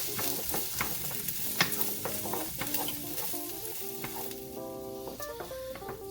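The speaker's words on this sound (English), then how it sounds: "let's pop our onion in there, get it nice and sizzly. And the pepper." Onion and pepper sizzle in olive oil in a pan as sweet potato pad Thai is cooked, a steady close frying hiss broken by frequent clicks and scrapes of stirring, with tonal kitchen sounds running underneath.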